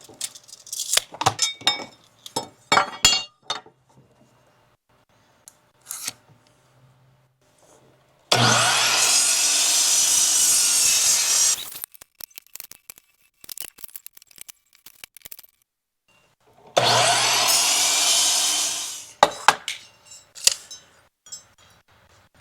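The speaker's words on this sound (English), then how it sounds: "I'm gonna go ahead and cut a bunch of them at 8 inches" A power saw cuts wood pieces to length for porch posts, with two loud, sustained cutting bursts of a few seconds each, set apart by a pause and surrounded by scattered clicks and handling knocks.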